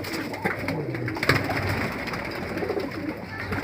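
Domestic pigeons coo softly and continuously nearby in a loft, low throaty calls overlapping in an enclosed space, with a few faint rustles and thumps.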